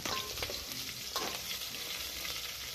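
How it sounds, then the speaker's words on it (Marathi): Green chillies sauté in hot oil for a Vidarbha-style curd curry tempering, giving a steady close sizzle and frying crackle with occasional stirring scrapes, no voices. "मिरच्या टाकून घेऊया आपण त्याच्यामध्ये आणि आता त्याला छान असं परतून घेऊया।"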